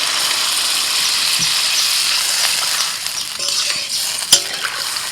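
Water poured into a pan of potatoes fried with ground spices for a chicken curry, a loud broad hiss and sizzle that eases slightly toward the end, with a sharp utensil clink near the close.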